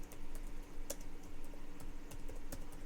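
Typing on a computer keyboard during a podcast recording, faint, irregular clicks of keys pressed in short bursts under a low background hum, with no speech.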